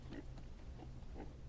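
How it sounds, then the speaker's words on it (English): Pig oinking in a drama scene, several short grunts spaced apart over a steady low background hum, moderately faint. "Ooh, pig."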